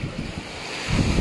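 Steady rush of sea surf with wind buffeting the microphone during Tropical Storm Enteng in the Philippines, swelling louder toward the end; no voices.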